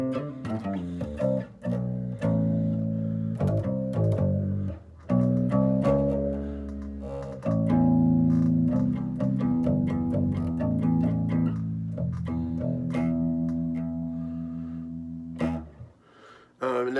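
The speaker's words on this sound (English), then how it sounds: "the bass just going through the 100 bassman sounds something like this" A Cort PJ bass guitar running through a Fender Bassman 100 amp with the limiter switch off, playing a steady, fairly quiet line of sustained low notes and slides, heard alone.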